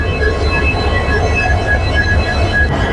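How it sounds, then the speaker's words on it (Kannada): A WDG-4 diesel locomotive runs loudly at a station ahead of the Vasco-da-Gama Express departure, its engine making a heavy, steady low drone with a humming tonal whine throughout and no voices. "ಇಂಜಿನ್ ಅಂತೂ ಸಿಕ್ಕಾಪಟ್ಟೆ ಸೌಂಡ್ ಮಾಡ್ತಾ ಇದೆ"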